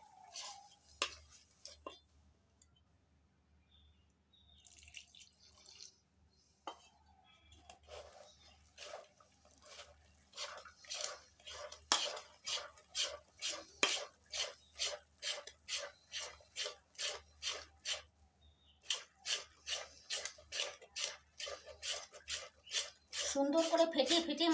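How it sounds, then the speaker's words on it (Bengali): Malpua batter being beaten with milk in a bowl, a rhythmic series of quick scraping, slapping strokes that speed up into a steady beat, close and fairly quiet. "সুন্দর করে ফেটিয়ে ফেটিয়ে মাখতে হবে"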